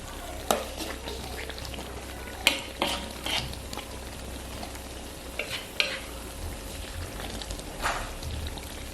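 Spoon stirring rendang beef through thick spice paste in a pot, a soft continuous scraping and faint sizzle with a few sharp clacks against the pot, close and quiet, no voices.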